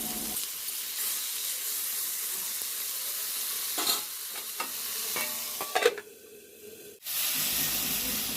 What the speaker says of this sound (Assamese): তেলত প্ৰথমতে পিঁয়াজখিনি ভাজি ল'লোঁ।